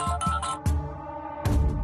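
Early in the morning, a phone rings with a short melodic ringtone, clear and close. A few bright tonal notes step up and down over about two seconds, with no voices.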